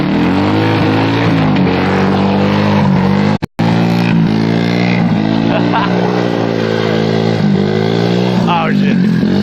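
Loud truck engine held at high revs in fifth gear during a burnout, a steady roaring drone with shifting pitch, briefly cut out once, with voices shouting over it.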